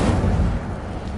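Fire spell Incendio cast in the wizarding game Hogwarts Legacy, inside a cave: a loud, close, roaring burst of flame that holds briefly and then eases slightly.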